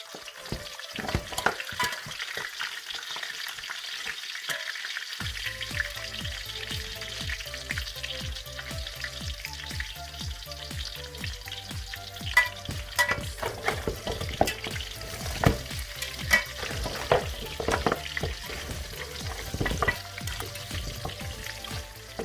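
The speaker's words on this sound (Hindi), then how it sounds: "हम इसको 3-4 मिनट जो है भुनेंगे अदरक लहसुन के साथ और प्याज के साथ" Loud, continuous sizzling of beef paya frying in a pan with ginger, garlic and onion, with frequent stirring clatter and scraping throughout, close and busy.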